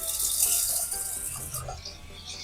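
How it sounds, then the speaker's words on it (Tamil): Lentils (dal) for rasam are rinsed under running tap water, a close, bright splashing and trickling into a vessel that shifts in intensity and ends softly. "எந்த பருப்பாக இருந்தாலும் நம்ம 1 டைம் வாஷ் பண்ணிக்கலாம்."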